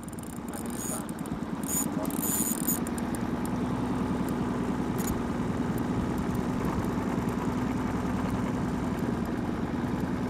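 A boat motor idles steadily and fairly close, with a continuous low droning rumble that holds for the whole stretch. Some brief clicks and handling noises come early on.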